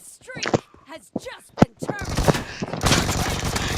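Rapid automatic gunfire in a video game breaks out midway and keeps going as continuous bursts, loud and close, following a few seconds of excited talking from players.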